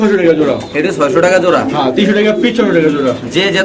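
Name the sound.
pigeons cooing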